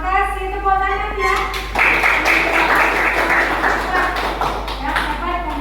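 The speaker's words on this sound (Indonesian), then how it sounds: "Terima kasih, tepuk tangan ya." Participants in an Indonesian teacher-training class clap after a comment on a video, a short round of applause that starts up after voices and continues at a steady level, with speech mixed in.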